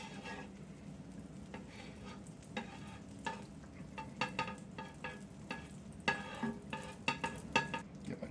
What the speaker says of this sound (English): Get my custard stirred up one more time.